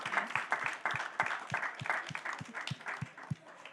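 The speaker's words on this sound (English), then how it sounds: "let me invite all of you to give a big round of applause to our really excellent panel here" An audience at a Southeast Asia climate adaptation conference applauds a panel with a brisk, even patter of hand claps at moderate level that continues throughout.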